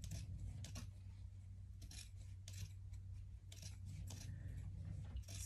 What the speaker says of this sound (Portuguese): Vamos cortar a rebarba aqui.